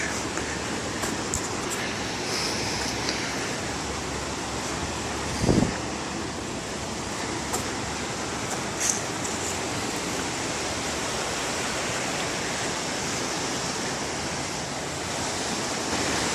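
Swollen river water rushing close beneath a bridge, a steady loud broadband roar filling the whole stretch with a brief thump partway through.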